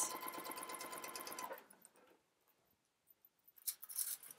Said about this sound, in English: I'm just sewing this at 3/8